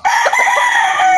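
A fighting cock crowing, one loud, close, drawn-out call that holds steady for just over a second.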